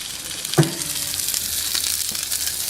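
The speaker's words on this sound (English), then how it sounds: "I'm just going to add halibut to the pan." Halibut frying in a pan on an outdoor grill, a steady close sizzle with a brief clatter near the start and no talking.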